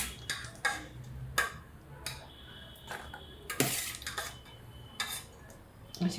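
Soaked soybean chunks lifted out of a pot into a colander, with sharp, irregular metallic clinks and scrapes of a utensil against the vessel, close and fairly quiet, with no talking.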